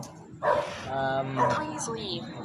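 Dogs barking in an abandoned village, a couple of close barks and a whimpering yelp with people talking around them.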